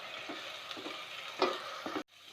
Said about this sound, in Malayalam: ഇനി ഈ സവോള പേസ്റ്റ് ഈ എണ്ണയിൽ കടന്നിട്ട് നന്നായിട്ടൊന്ന് വെന്ത് വരട്ടെ.